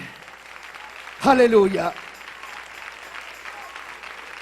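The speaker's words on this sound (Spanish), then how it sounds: "Dale un aplauso al Rey," Church congregation bursts into applause for the King during a sermon, a short loud burst lasting under a second amid a pastor's voice and quiet room tone.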